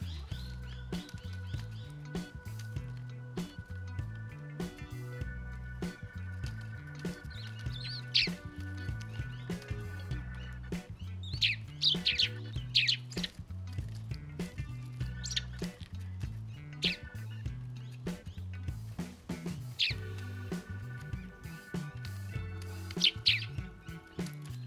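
Sparrows chirp in short, scattered bursts while tugging peanuts out of their shells at a garden feeder, over a steady low rhythmic rumble that runs throughout.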